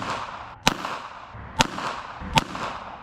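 Three sharp pistol shots from a Ruger Mark IV .22 with a 5.5-inch barrel, spaced about a second apart, each a crisp crack over quiet outdoor background.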